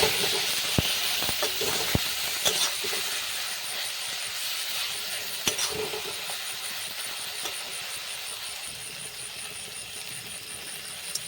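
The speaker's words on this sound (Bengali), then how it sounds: "এবার ভালো করে আর একটু নাড়িয়ে কষিয়ে নিলাম" Spices fried and stirred in a pan for a Bengali vegetarian dish, including turmeric, cumin and chilli powder with salt and a little sugar, give a steady soft hiss and sizzle, with a few sharp clicks of the utensil early on, fading slightly toward the end.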